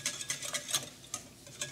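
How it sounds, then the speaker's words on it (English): Hollandaise sauce whisked with butter in a pan over low heat, a quick rhythmic series of soft metallic whisk strokes, fairly faint. "we're going to keep whisking it till the sauce thickens and it's able to coat the back of a spoon"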